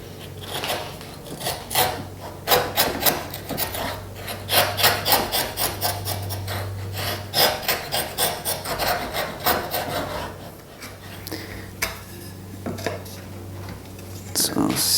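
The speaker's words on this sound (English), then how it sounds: "take the router plane and just kind of clean it up" Router plane shaving and cleaning up a wooden tenon to fit a mortise for a shadowbox door frame, heard as repeated close scraping and rasping strokes in an uneven rhythm.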